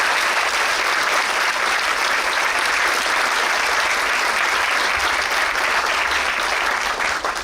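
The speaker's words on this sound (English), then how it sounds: "I think we should do it with a huge round of applause." A large audience gives a sustained, loud round of applause welcoming India's External Affairs Minister at a capital markets event, a dense unbroken roar of clapping throughout.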